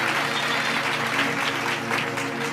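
A congregation at a Hindi Bible study gathering breaks into vigorous applause in thanks to God, a thick continuous clatter of many hands over a low droning musical hum, with a few voices underneath.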